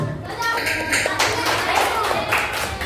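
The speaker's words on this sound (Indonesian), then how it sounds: "tepuk tangan untuk kita semua" Classroom clapping from a group of primary-school pupils, a dense, steady patter of many hands lasting a few seconds, close and fairly loud, with children's voices mixed in underneath.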